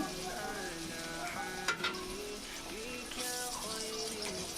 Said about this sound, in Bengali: এবার আমি কড়াইতে তেল দিয়ে পেঁয়াজ কাঁচামরিচ লবণ দিয়ে ভালোভাবে একটু ভেজে নিচ্ছি